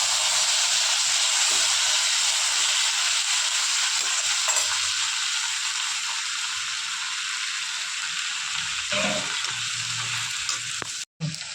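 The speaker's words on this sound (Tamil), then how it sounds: "இப்போ நம்ம எடுத்து வச்ச கொத்தமல்லியும் போட்டு நல்லா வதக்கிடணும்" Tomato and coriander leaves sauté in a pan for chutney, a loud, continuous hissing sizzle with faint stirring knocks, close by, cutting off briefly just before the end.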